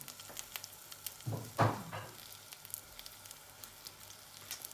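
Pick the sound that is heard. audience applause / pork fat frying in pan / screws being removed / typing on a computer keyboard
pork fat frying in pan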